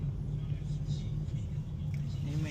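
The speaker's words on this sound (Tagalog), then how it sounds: "Yan, traffic." Steady low road-traffic rumble from inside a moving car, continuous and moderately loud with a faint passing swell near the end.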